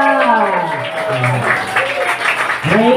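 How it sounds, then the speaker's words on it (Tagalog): Church congregation claps during a service, a continuous burst of applause under a loud voice that keeps speaking over it. "Yung palakpak ng mga mananagumpay"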